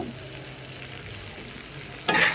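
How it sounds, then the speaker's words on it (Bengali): Vegetables and spices for quick vegetable noodles stirred in a frying pan, a continuous close sizzle with scraping as they are mixed, and a louder burst of frying near the end. "ভালো করে একটু মিশাবো মিশাচ্ছি"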